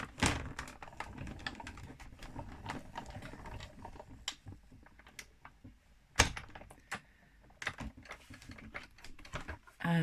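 A Big Shot die-cutting machine cranks an embossing folder through for a handmade card, giving a run of irregular close clicks, ratchets and clunks with a few sharper knocks; nobody speaks.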